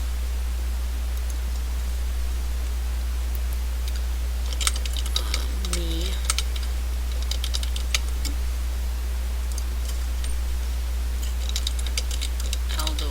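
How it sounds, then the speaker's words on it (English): Answer options being typed on a computer keyboard, soft clusters of key taps in short bursts over a steady hiss of background noise, with no talking. "Let's type in some options here."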